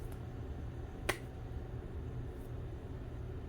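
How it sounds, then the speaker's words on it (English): A single sharp hand clap swatting a gnat among houseplants rings out once, crisp and close, against a quiet room background. "I clapped that gnat."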